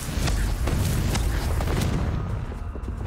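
A Confringo blasting spell goes off in Hogwarts Legacy as a loud, sustained booming blast with repeated sharp cracks, filling the whole stretch before fading slightly at the end.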